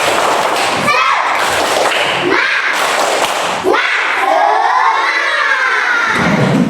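Schoolchildren in an Indonesian classroom doing a rhythmic spirit clap, with bursts of clapping, thumps and children shouting and chanting together, loud and close.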